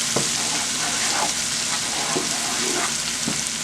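Marinated pork chops sizzling steadily in a hot pan, a constant crackling hiss with a few soft stirring scrapes, close by.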